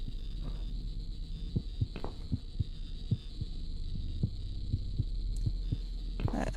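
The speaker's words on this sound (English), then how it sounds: "That heartbeat sounds pretty creepy." A creepy heartbeat from the video game Cat Lady thumps in a steady slow rhythm, soft repeated beats over a low droning hum, with no voices.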